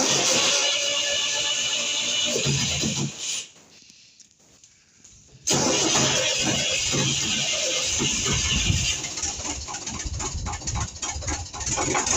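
A cold MTZ tractor diesel engine on winter fuel at -10°C cranks and strains briefly, cuts out for a couple of seconds, then catches and runs with a rough, steady rumble.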